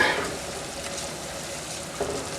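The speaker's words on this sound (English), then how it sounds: "Just give this spices a mix through" Spices being stirred in a pot over low heat for tandoori chicken achari, a soft steady sizzle with light scraping, faint and close with no talking.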